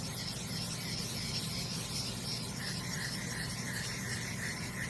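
Resin being wet sanded by hand in circular motions makes a continuous, soft, even rubbing and rasping sound, steady and fairly quiet throughout.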